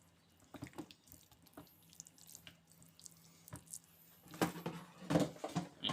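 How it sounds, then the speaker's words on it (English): Hands being washed under a running kitchen tap while preparing a roast pork, with soft trickling and splashing that stays faint at first and grows into louder water bursts toward the end. "And you're gonna wash your hand, obviously."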